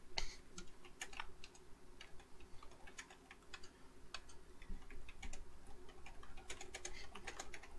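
Quick clicking keystrokes on a computer keyboard, irregular bursts of close taps over a low steady hum with no talking.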